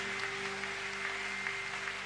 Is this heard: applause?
yes